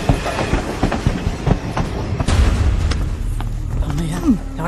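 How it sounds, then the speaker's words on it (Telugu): A moving train in a Telugu action drama film scene produces a loud rumble with clattering wheel clacks and a few heavy thuds, while voices shout over it. "ట్రైన్ మూవ్ అయిందా?"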